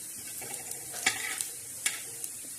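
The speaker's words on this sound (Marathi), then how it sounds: "धने असे चांगले भाजून खमंग असे खरपूस धने भाजायचे" Coriander seeds roasting in a dry pan, stirred with quick scraping strokes that give a few sharp rattles and soft crackles, close by and fairly quiet, with no talk.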